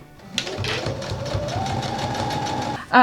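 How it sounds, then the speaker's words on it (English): A sewing machine stitches rows of a quilt together, starting after a brief pause into a fast, steady mechanical chatter of the needle, close and loud, then stopping abruptly at the end. "I always just stop with my needle down, raise my presser foot, and fold that back over before I sew over it"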